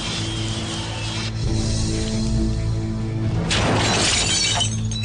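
An untreated glass window shatters under a firebomb, a loud burst of breaking glass followed by a second crashing wave of shards, with no voices.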